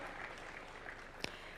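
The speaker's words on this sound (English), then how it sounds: "Let's give him a round of applause as well." Audience applause at a national conversation launch event in Kenya, a steady wash of clapping from a crowd that holds level for the whole short stretch, with one sharper close clap near the end.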